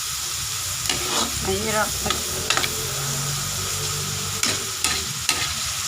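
Food frying in a small amount of cooking oil for fish miso sinigang, a steady broadband sizzle running throughout with occasional clinks and stirring, while someone talks over it.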